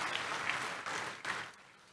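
A church congregation applauds in praise of Jesus during a Sunday service, a soft, distant wash of clapping that swells in a few waves and then fades.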